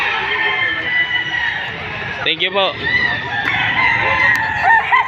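Roosters crowing at a gamefowl sale in Padre Garcia, Batangas, among stags and black face birds, with one clear crow in the middle over a busy crowd murmur, and a brief spoken thanks near the end.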